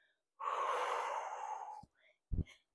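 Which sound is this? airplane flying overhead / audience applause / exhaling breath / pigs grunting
exhaling breath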